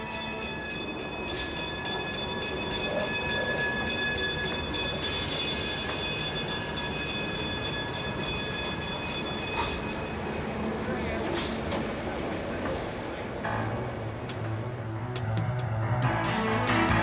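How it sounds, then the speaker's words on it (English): The Pikes Peak cog railway train starts down toward the depot, a steady rumbling rail drone with a few ringing bell tones and light clatter, while a narrator talks over it. "Passengers look up toward the shop as a few bells are heard and their train starts down to the depot."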